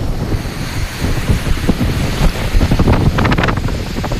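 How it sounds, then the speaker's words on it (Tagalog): Strong wind roars across the microphone over the constant wash of big ocean waves crashing close by, loud and unbroken throughout. "Laking alon kasi"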